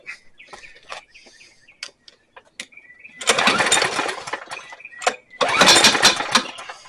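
A John Deere JS63 self-propelled push mower engine fires up twice, each burst a loud, rough roar lasting over a second and ending abruptly, with birds chirping faintly outdoors during the quieter start.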